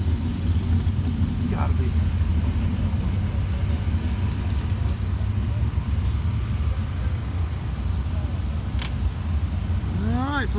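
A 1968 Oldsmobile 442 muscle car engine rumbles steadily and low throughout at close range, while someone talks over it.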